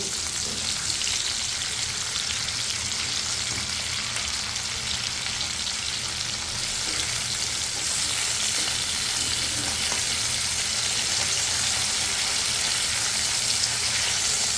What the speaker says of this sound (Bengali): আমি মাছগুলো দিয়ে দিয়েছি ভাজার জন্য